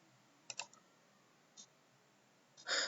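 Computer mouse clicks while working in FEA software: three faint, isolated clicks spaced over a few seconds in a quiet room, the last slightly longer and louder.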